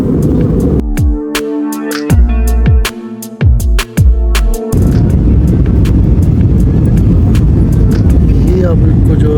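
An airliner landing in Istanbul, heard from the cabin: a steady broadband roar of engine and airflow swells up and fills the second half, following an earlier stretch of tonal sound with sharp knocks.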